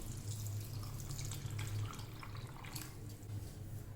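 Hot water pours into a pot of raw peanuts for salted roasted peanuts, a steady close splashing and trickling stream running throughout with no talk.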